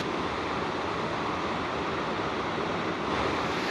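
Rushing water from a waterfall in Sapa after heavy rain, a steady, dense broadband roar that stays loud and unbroken throughout.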